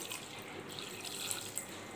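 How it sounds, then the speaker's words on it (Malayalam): Water is poured into a pot for a homemade hair serum, a faint, continuous splashing trickle with a couple of small drip-like plinks and no speech. "നമുക്ക് വെള്ളം ഒഴിച്ച് കൊടുക്കാം."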